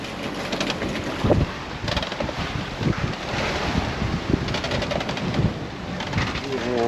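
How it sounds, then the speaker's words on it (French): A sailboat motoring with a reefed mainsail in strong wind, at sea between the Strait of Messina and the Aeolian Islands. A steady, loud roar of wind and engine runs continuously throughout. "on est obligé de mettre le moteur là parce que vraiment, oh, c'est terrible"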